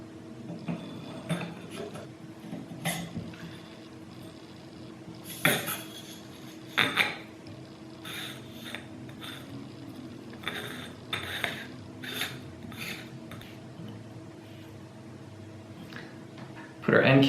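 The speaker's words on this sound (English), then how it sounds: "Let's put our barrel shroud back on." Barrel shroud being refitted on a Marauder air pistol: scattered metallic clicks, scrapes and taps at irregular intervals, some sharp and close, over a quiet room background.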